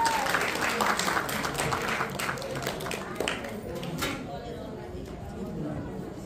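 An audience at a wedding ceremony applauds to welcome two singers, a broad sustained round of clapping that slowly thins out, mixed with crowd chatter.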